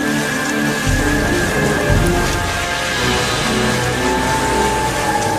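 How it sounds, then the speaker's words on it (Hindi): Heavy rain pours down in a dense, steady roar, unbroken throughout, with a faint low rumble beneath it. "अब की बार इतना तेज बारिश आ रही है"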